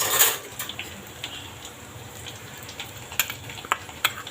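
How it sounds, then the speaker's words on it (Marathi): Chopped onion browning in a hot pan for a spicy pithale, with a low, steady sizzle and scattered crackles and pops that grow a little livelier toward the end. "आता आपण थोडा लाल करून घेऊया कांदा"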